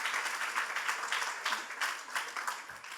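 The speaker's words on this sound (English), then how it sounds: "can we give a round of applause?" Applause from the audience at a youth leadership closing event and award ceremony, a fairly faint but steady patter of many hands clapping throughout, with no voice rising above it.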